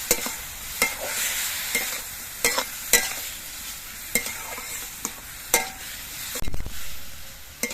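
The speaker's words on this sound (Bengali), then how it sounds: "নুন হলুদ দিয়ে নেড়ে চেড়ে মিশিয়ে নিতে হবে" Radish stems stirred with salt and turmeric in a pan, a spatula scraping and knocking at a steady irregular pace, roughly every second, with a soft sizzle underneath and no talking.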